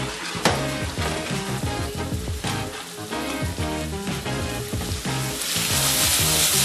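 Swordfish steaks sear in a hot pan with a butter sauce, giving a loud, steady sizzle with busy popping and bubbling that grows slightly brighter toward the end, with no talking.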